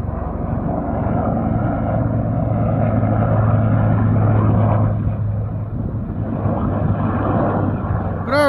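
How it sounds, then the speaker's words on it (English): Military Apache helicopter flying over the Parker Dam area in Arizona, a continuous low rotor and engine drone heard from a distance, steady throughout, with voices talking over it. "Got a helicopter in there for something."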